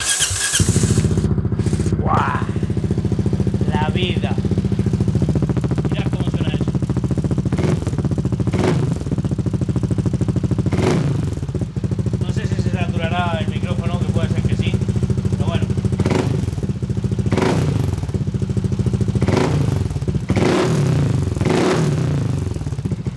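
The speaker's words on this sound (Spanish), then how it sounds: "una vez ya que habéis escuchado el tubo de escape" A Kymco Superdink 300 scooter's exhaust revs up and down repeatedly with rising and falling bursts over a steady running drone, loud and close.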